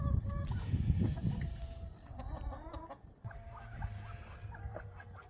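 Chickens cluck and a rooster calls around a small home farmyard with ducks nearby, giving repeated short clucks and calls at moderate distance over low rumbling background noise.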